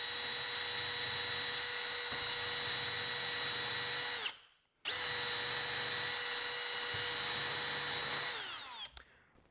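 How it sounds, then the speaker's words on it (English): A power drill boring into solid oak whines steadily at high speed, cuts out briefly midway, then resumes and spins down near the end. "it's good practice to move in and out as you drill"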